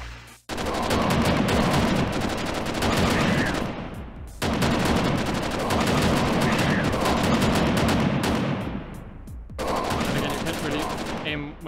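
Sustained rapid gunfire from a shooter game, loud and dense in long bursts with brief gaps between volleys, no talk over it.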